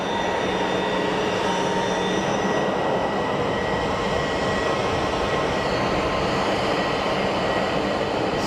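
A Swiss Airbus A220 jet on landing approach at Geneva Airport, a loud, steady broadband roar of engines and rushing air that holds without a break.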